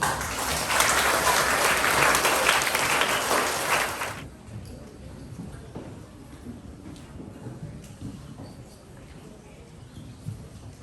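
Audience applause at a primary school presentation day, loud and dense for about four seconds and then cutting off abruptly, leaving quiet room noise with faint murmurs.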